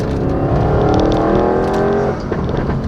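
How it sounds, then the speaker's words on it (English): An Audi RS7 twin-turbo engine revs hard with rising harmonic tones, then cuts off around two seconds, followed by a brief turbo whoosh and fluttery blow-off valve release. "you can hear the turbos on the blow-off valve"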